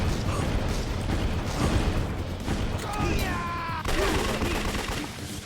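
Enemy gunfire in the video game Yakuza 3, a dense, continuous clatter of shots mixed with game effects, with a voice talking over parts of it.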